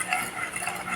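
A spoon swirls mango gelatin powder through evaporated milk in a pot, a brief close scraping and clinking stir with a soft liquid swish.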